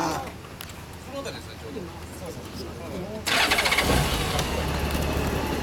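A 2003 Honda Goldwing F6C (GL1800) motorcycle engine cranks and fires up abruptly partway through, then settles into a loud, steady rumble after a quieter stretch of background noise.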